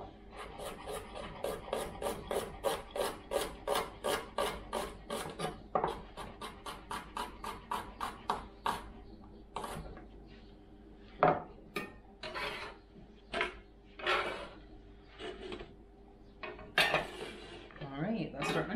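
Knife chopping an onion on a cutting board, a fast steady run of crisp knocks for about nine seconds, then slower scattered chops and scraping with faint talk.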